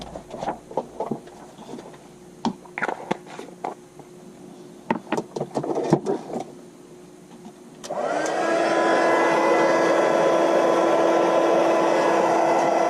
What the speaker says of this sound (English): now I'm going to heat emboss those